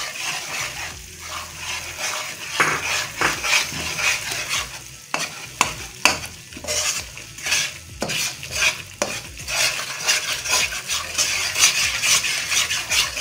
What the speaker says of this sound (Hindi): सूजी थोड़ी सी भुनी है और अब इसमें बेसन डालने लगे हुए हैं